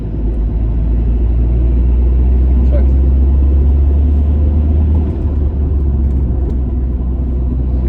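A 2003 Volvo S40 with new Brembo brakes driving on the road, a steady, loud low rumble of engine and road noise heard from inside the cabin throughout.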